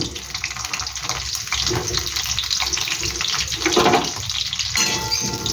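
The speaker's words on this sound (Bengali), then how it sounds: "এবার আমি সবজিগুলো একটু ভেজে নিচ্ছি। প্রথমে কপিটা দিয়ে দিলাম" Cauliflower and other vegetables frying in oil in a pan for bhuna khichuri, a steady close hiss and crackle throughout with no voice.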